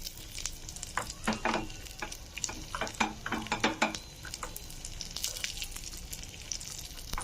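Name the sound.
cashews and almonds frying in a pan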